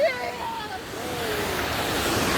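Rushing water from a waterfall forms a steady broadband roar that grows a little louder, with a voice speaking over it near the start.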